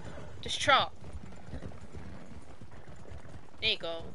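Horse trotting in the video game Red Dead Online on a desert trail, its hooves clopping in a rapid even rhythm throughout, with two short bursts of whinnying or voice near the start and end.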